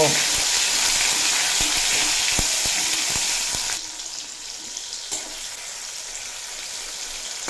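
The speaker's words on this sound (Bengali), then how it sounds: "টমেটো দিয়ে অল্প নাড়াচাড়া করে নেব" Tomato frying in a pan, a dense, loud sizzle with rapid stirring taps for the first few seconds, then quieter crackling with a single clink after stirring stops, no voices.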